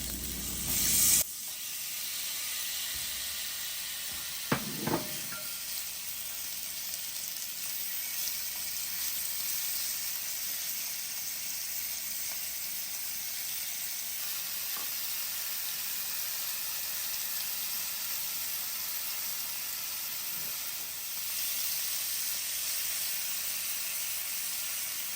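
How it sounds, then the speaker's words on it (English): Shrimp hitting hot oil in a pan, a steady close hiss of frying that holds for the whole stretch after a brief louder burst at the start, with a few faint clinks and no talk. "Allow the oil to come up to temperature and add the shrimp."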